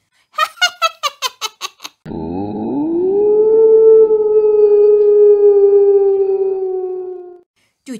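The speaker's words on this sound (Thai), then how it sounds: "จู่ๆหมาเจ้ากรรมก็โก่งคอส่งเสียงหอนดังๆ" A dog howls loudly in one long, sustained wail lasting several seconds, preceded by a rapid series of short squeaky yips.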